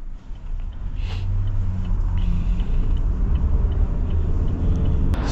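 A cab's car engine rumbles steadily on a street in Almaty, Kazakhstan, a close, continuous low drone lasting the whole stretch with no voices.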